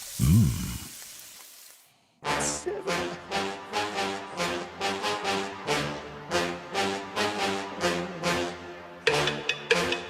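Spam sizzles in a frying pan in a radio advertisement, a brief hissing sizzle lasting about two seconds, followed by a rhythmic, punchy musical jingle.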